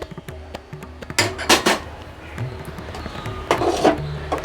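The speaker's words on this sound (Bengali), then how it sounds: "দিয়ে এভাবে আমি এখন নাড়াচাড়া করতে থাকবো যতক্ষণ না ক্ষীরা মতো হবে" A spoon scrapes and knocks against a pan while ghee, sugar, cardamom powder and milk powder are stirred together. Irregular clanks and clinks come up close, with soft scraping between them.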